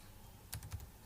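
Typing on a computer keyboard: a few quick, faint clicks of keys struck close by in a quiet room.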